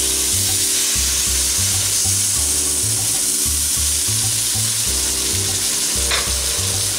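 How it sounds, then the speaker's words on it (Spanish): Steady close sizzling and frying of bread in a pan as tomato sauce is added and stirred, with rhythmic scraping of a utensil against the pan over a constant loud hiss; no talking. "Ahora le vamos a echar tomate frito."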